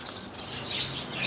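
Pet budgerigars chirping at close range in a steady, busy stream of high twittering calls with no voices.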